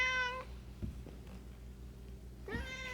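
A pet cat meows twice indoors, one clear cry at the start and another near the end, with faint knocks and quiet room noise in the pause between.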